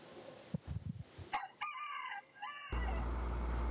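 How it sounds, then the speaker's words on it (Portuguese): A rooster crows outdoors at five in the morning, a clear rising and falling cock-a-doodle-doo at moderate distance, preceded by a few soft thumps and followed by a steady low background hum. "Olha o galo, vai cantar."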